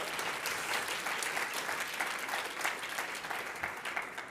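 Steady audience applause fills a conference hall after a talk at a tech event, dense continuous clapping without pauses from start to finish, moderately distant.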